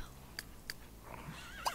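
Short whinnying horse calls from The Sims 3 video game, a few brief bursts spaced apart, fairly faint against a quiet background.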